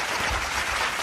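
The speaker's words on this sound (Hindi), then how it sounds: "एक बार जोरदार ताली हो जाए।" An audience at a devotional gathering of Ram bhajans and shayari breaks into a brief burst of loud, dense clapping lasting about a second.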